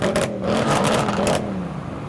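A V6 or VR6 car engine revs sharply up and back down in a quick burst, a rising whir with some clatter, then settles to a lower hum, at a modified car show.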